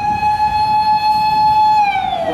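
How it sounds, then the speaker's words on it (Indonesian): A toy fire truck siren wails with a steady electronic tone that slides downward near the end, loud and close. "Wow, yang ini pemadam kebakaran."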